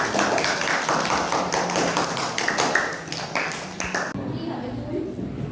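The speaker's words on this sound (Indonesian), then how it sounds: "Kita beri tepuk tangan." A classroom of students claps together at the end of a lesson, a burst of brisk, uneven hand claps lasting several seconds before stopping abruptly, with background room noise after.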